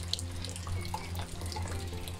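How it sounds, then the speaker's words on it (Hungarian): Rainwater runs and trickles into a barrel in a village garden: a continuous, fairly quiet watery splashing with scattered drips, close by and steady, with no talking. "Gyűlik össze az eső, víz."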